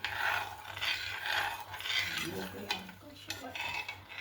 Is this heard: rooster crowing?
no